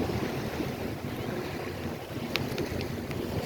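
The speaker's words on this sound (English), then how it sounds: "See the waves are building a little bit." Ocean waves wash onto Fort Myers Beach, Florida, as a steady, even surf roar mixed with wind buffeting the microphone.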